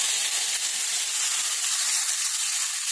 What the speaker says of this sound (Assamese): মই তেলত বিলাহীখিনি অকণমান ভাজি লৈছোঁ কেঁচা গোন্ধটো যোৱালৈকে